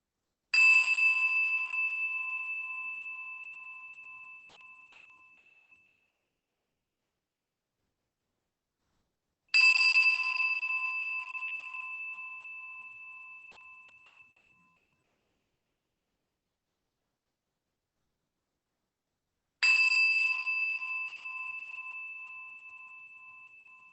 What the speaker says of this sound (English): I'm just going to ring the bell now 3 times to begin our seated practice.